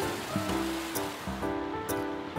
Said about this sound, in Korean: 무엇보다도 파도 소리가 잘 들려